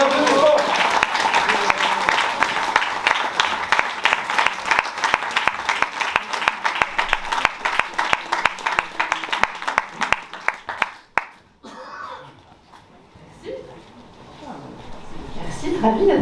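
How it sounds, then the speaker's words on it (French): Dense applause and crowd clapping at a French European election campaign rally welcoming list leader Valérie Hayer, loud and sustained for about eleven seconds before breaking off into a quieter room with faint voices. "Sous vos applaudissements."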